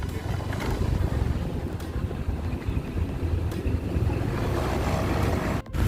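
A Honda Vario 125 scooter with a low, steady engine rumble runs close to the microphone, mixed with breezy wind noise, and ends in a brief dropout near the end.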